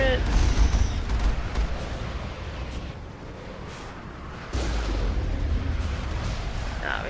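Turrets firing in Mass Effect: booming shots and dense rumbling impacts rolling on for several seconds, with a fresh heavy burst partway through, and a voice talking over the noise.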